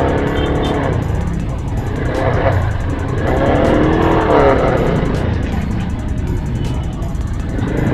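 Heavy road traffic in Taytay on the eve of Christmas Eve produces a continuous rumble of car and motorcycle engines, with some revving and passing vehicles close by and no talk.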